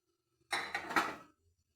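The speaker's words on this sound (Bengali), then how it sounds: "ঢাকনাটা খুলে দেখি কেমন হয়েছে।" A metal lid lifts off a pot of steamed idli with a short clatter and scrape, followed by a brief rush of steam, close and fairly quiet.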